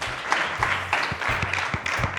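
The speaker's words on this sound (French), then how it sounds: "J'aimerais qu'on applaudisse pour ça." An audience applauds at a talk show in a steady wash of clapping, moderately loud, with a few low thumps underneath and no voices.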